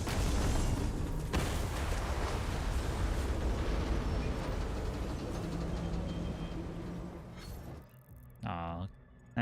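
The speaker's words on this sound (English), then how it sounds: "Like, hey, destroy these two cannons." A cannon is blown apart in the video game DOOM: The Dark Ages, giving a sustained, loud, rumbling blast that slowly fades, followed by a short whooshing tail and a final sharp hit.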